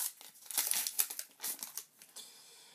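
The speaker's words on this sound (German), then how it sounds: "Und dann öffne ich auch vielleicht dann das Päckchen." Foil wrapper of a Match Attax football trading card pack being torn open, bursts of close crinkling and tearing over a few seconds.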